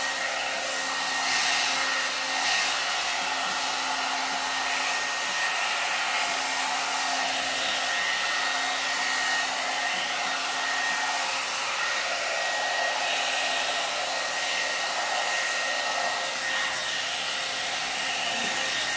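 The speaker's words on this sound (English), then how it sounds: "Something easier to blow dry hair." A SUTRA blowout brush hair dryer roars steadily and loudly while blow-drying hair, a continuous airy whoosh with a faint whine that holds without a break.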